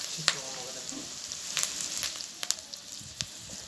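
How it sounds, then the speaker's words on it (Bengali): Onions sizzle in hot oil for a pabda fish curry, a soft continuous frying hiss broken by a few sharp crackles and spatters, fairly quiet and close. "পেঁয়াজটা ভাজা ভাজা হয়ে আসলে"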